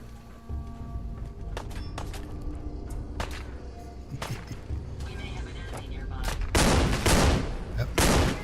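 Rapid gunfire with explosive rounds in Fallout 4 (modded), a fast stream of sharp shots that swells into louder, denser bursts of blasts near the end, with a voice talking underneath.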